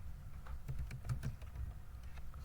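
Fingers type on a computer keyboard while an invoice is filled in in Excel, giving a quick, irregular run of soft close key clicks over low background hum.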